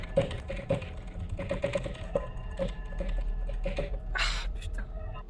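Quick, irregular keystrokes clatter on a computer keyboard up close, a steady stream of taps with a brief noisy burst near the end.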